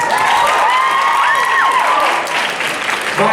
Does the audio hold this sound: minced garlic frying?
no